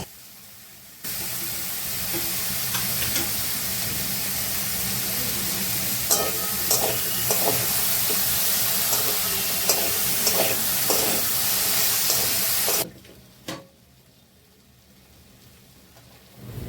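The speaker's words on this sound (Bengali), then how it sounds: "ভালো করে একটু নাড়াচাড়া করে নিচ্ছি" Grated ginger fries in a kadai with a steady, loud sizzle, while a spoon scrapes and clinks against the pan in irregular stirring strokes. The sizzle stops abruptly near the end.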